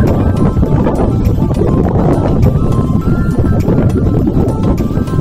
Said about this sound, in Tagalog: medyo mahangin siya ngayon